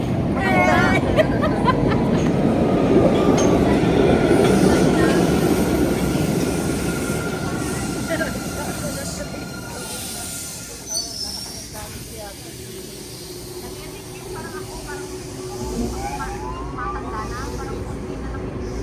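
A train rolling along rails on a trip in Boston, a loud sustained rumble and hiss with faint squeals that gradually eases off, while people talk over it throughout.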